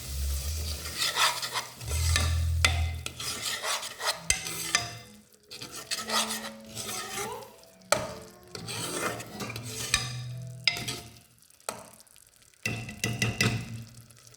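Curd is stirred into a mushroom curry in a pan for biryani, with repeated scraping and rubbing strokes of a spoon against the pan in uneven bursts over a gentle sizzle, pausing briefly between rounds.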